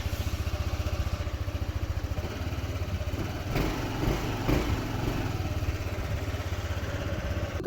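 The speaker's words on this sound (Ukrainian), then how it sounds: "Ось зараз ми його заведемо. Так, завів." A Yamaha Majesty 155 scooter engine, just after an oil change, runs at a steady, even idle close to the microphone, a loud rapid putter with a brief rise in revs midway.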